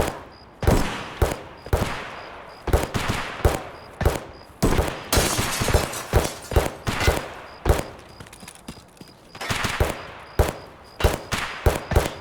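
Gunfire in the Escape from Tarkov video game, a steady run of sharp, loud shots in quick single cracks and short bursts, close by, over a faint background tone.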